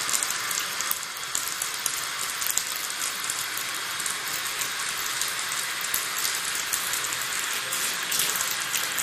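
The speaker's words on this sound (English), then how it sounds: "And you want to just start scrubbing your tub" Water runs and splashes steadily in a bathtub as it is scrubbed clean of paint spots, a continuous close hiss with no talk over it.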